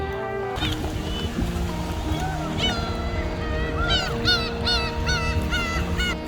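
Seagulls calling by the sea on Ulleungdo, repeated squawking cries overlapping in bursts, close and loud over a steady boat engine and water background.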